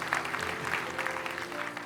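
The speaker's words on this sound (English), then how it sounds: "You can clap. This is where you clap." Audience clapping at a spoken word poetry performance, a brief steady patter of many hands at moderate distance, with a faint low hum underneath.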